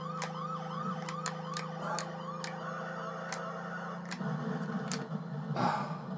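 Warbling police car siren from the Amiga game F40 Pursuit Simulator, a rhythmic rising-and-falling electronic wail repeating over a steady engine drone, with sharp clicks and a burst of noise near the end.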